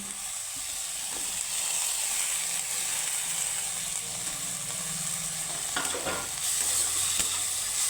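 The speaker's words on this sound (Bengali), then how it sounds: "এখানে আমি ভেজে রাখা দিয়ে দিব আলু আর এখানে বেগুন" Fried potatoes and eggplant going into a frying pan of spices, giving a steady soft sizzle with light stirring scrapes throughout. The sound is fairly quiet and close, with no voices.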